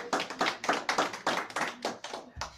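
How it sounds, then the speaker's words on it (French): A small audience at a theatre talk held at UNESCO claps for a guest; loose, uneven claps from a few hands patter quickly at moderate loudness, with a faint voice near the end. "on peut applaudir monsieur Jean-Yves, s'il vous plaît."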